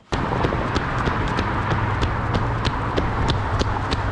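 Running footsteps in Nike Air Zoom Alphafly Next% 2 Proto shoes land in a fast, even rhythm of sharp, regular slaps over constant background noise, recorded close up.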